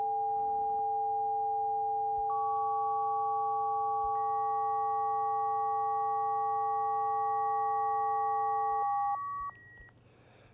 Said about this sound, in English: So we have a low frequency tone there.